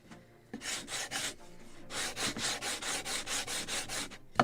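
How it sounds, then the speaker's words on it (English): Rhythmic rasping strokes of sandpaper on a wooden model ship part, close and steady, one brief stroke then a pause before a long run of even back-and-forth passes. "Okay, more sanding."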